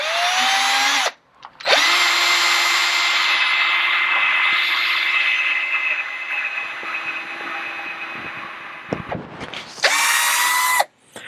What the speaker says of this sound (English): we're going to do pilot holes because we do not want to break the wood